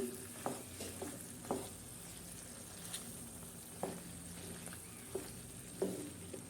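Mixed vegetables fry in a pan with a soft, steady sizzle, broken by scattered spoon scrapes and taps as they are stirred. The sound is close but fairly quiet, with no talking.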